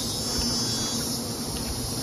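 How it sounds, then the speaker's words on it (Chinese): Honeybees buzzing around a beehive on a hillside, a steady dense drone of many insects close by, continuous and alone with no talk. "给你们看的这蜜蜂"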